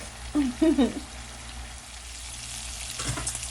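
Shrimp cooking in a pan for shrimp and grits, a steady low sizzle running throughout, with a brief burst of voice near the start and a faint clatter toward the end.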